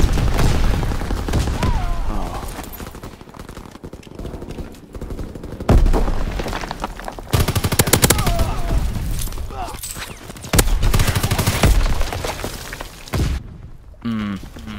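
Rapid gunfire in Call of Duty: WWII aimed at a descending parachute, sharp bursts of shots and loud bangs in clusters, with a player talking over the shooting.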